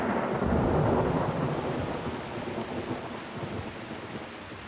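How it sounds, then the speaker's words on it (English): A monsoon thunderstorm breaks over Rajasthan at night with a heavy, continuous roar of rain and deep rolling thunder. It is loud at first and eases slightly as it goes on. "Under cover of darkness, the monsoon arrives in Rajasthan."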